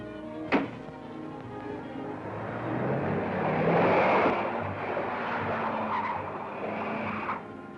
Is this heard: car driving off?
yes